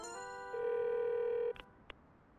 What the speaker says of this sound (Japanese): あら、タヨから電話があったんだわ。